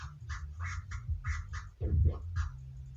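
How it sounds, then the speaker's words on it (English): DJ chirp scratches made on Serato DJ, a quick run of short, clipped, squeaky chirps in a steady rhythm over a low repeating beat, close and alone with no talking. "I'm just going to do some chirp scratches in the one-click flare orbit"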